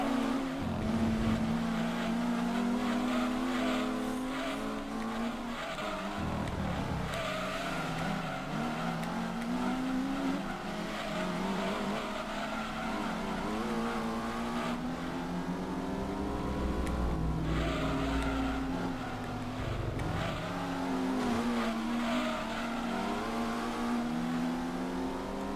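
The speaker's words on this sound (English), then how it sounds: "Stop trying to spin out, car. Viper." A Viper race car in Gran Turismo 2 drones loudly with its engine note rising and falling, and tire noise shifts as the car skids and spins out. The sound holds steady throughout without any talk.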